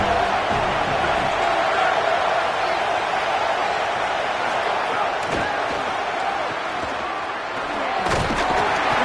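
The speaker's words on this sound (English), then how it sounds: "Decibels rising as the crowd gets behind this defense on third down." A large stadium crowd at a football game roars continuously during a third-down defensive stand, a dense distant wall of cheering with a couple of sharp thuds, and a voice speaks faintly beneath.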